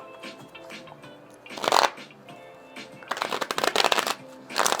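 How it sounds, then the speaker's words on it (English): Tarot cards being shuffled close by in several bursts of riffling and sliding, crisp papery rustles separated by short pauses, with faint quiet sounds between them. "Let's get some tarot cards, and then what we'll do, we'll pull two different type of tarot cards"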